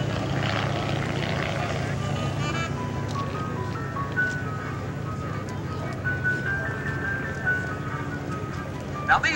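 A PT-23 primary trainer, a fabric-covered plane with a welded 4130 chromoly tube fuselage, runs its engine at a 2008 warbirds airshow, a steady, loud propeller drone continuing throughout while someone talks over it.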